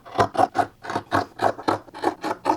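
Scissors snipping through bed-sheet fabric to trim a shorts hem, about a dozen quick crisp cuts in an even rhythm, close and fairly loud with no talking.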